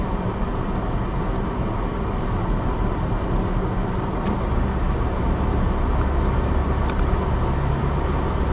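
Steady interior road noise from a Skoda car cruising on a rural road toward Inch Island, County Donegal, Ireland: a continuous low rumble of tyres and engine, even and unbroken, with no voices.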